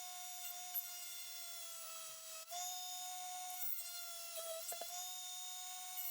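A wooden topwater frog popper fishing lure is worked with a small high-pitched Dremel rotary tool, giving a faint, steady whine with brief dips and scrapes over several seconds.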